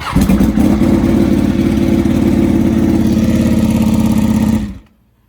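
A Ducati 899 Panigale engine runs steadily at a loud, close idle for about four and a half seconds, a dense low rumble that cuts off abruptly near the end.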